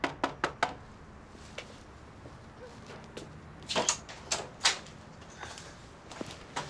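Knocking on a door comes as sharp knuckle raps: a quick group of four, a few single taps, then louder clustered knocks, heard fairly close with no voices.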